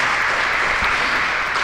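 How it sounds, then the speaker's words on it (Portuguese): A church congregation applauds during a worship service, a loud, steady wash of many hands clapping together, sustained without a break and with no clear speech. "as palmas para louvar o santo nome do nosso Salvador Jesus Cristo"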